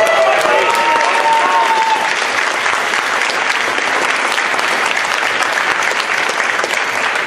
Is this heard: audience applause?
yes